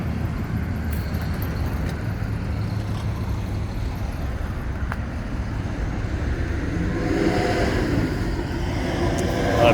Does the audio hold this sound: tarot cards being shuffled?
no